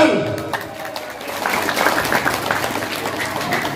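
Audience applause at a village Independence Day eve ceremony (malam tirakatan) builds after a brief start and holds as a steady, dense patter of many hands clapping, moderately loud, with crowd murmur underneath.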